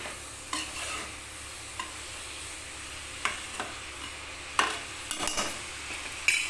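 Soya chunks and green peas being sautéed in a pan, with soft sizzling under intermittent scraping and stirring strokes of a spoon against the pan, close and moderately loud.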